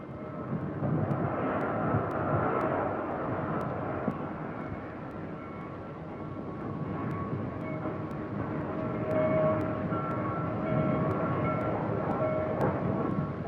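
Norfolk & Western freight train with railroad cars rumbling steadily at moderate distance, a continuous low roar with faint metallic clicks and no voices.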